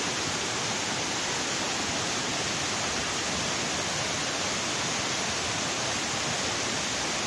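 Heavy water rushes over the Araras dam spillway in Varjota, Ceará, during high overflow, making a loud, unbroken roar that stays constant the whole time with no voices.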